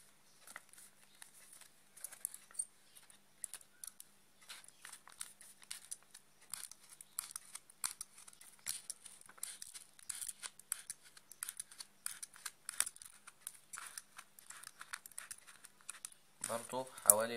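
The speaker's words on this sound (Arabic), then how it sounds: "نفصل الورق كده" Scissors cutting paper while making a paper Ramadan lantern: quiet, rapid snips and crisp paper rustles repeating throughout, close and faint, with a louder rustle at the end.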